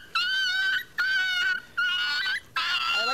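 A puppy bitten by a tortoise whimpers and whines in four high, drawn-out cries separated by short pauses, close and fairly loud.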